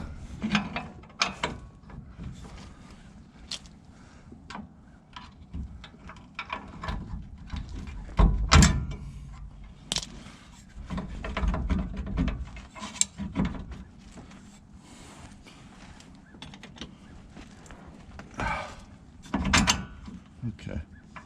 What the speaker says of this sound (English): put the shock back on and tighten up all the bolts